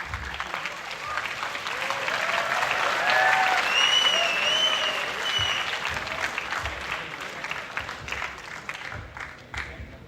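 An audience at a college play applauds the assistant director, with broad sustained clapping that swells in the middle and then thins toward the end. Faint voices rise briefly through it.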